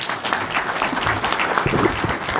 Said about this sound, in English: Give it a round of applause to Dina.